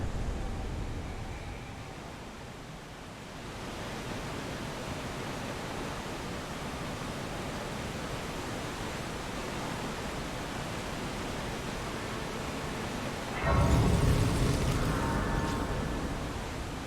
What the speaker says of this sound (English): Now magically go up the waterfall.